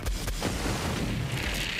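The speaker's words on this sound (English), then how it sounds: "So the yellow explosion is the radiation, and the obviously you know what the cryo is." Radiation and cryo grenade explosions in the video game Borderlands 3 produce a dense, continuous wash of booming blasts and crackling bursts, loud throughout the short span with no talk.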